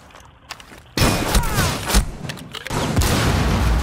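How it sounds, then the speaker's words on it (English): Ash's rocket launcher in a video game fires and bursts into a heavy booming explosion, followed by sustained rumbling blasts and gunfire-like clatter, loud and close. "use your ash rocket launcher and kill him"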